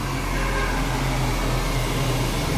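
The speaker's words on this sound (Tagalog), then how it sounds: "ang buhok ay blower po na muli ang buhok ng ating client." A hair blower dries a client's hair after a keratin hair mask treatment in a salon, giving a steady, loud, continuous whoosh of airflow with a low motor hum throughout.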